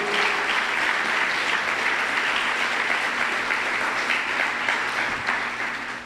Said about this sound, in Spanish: Alguien dele un aplauso fuerte a Cristo en esta hora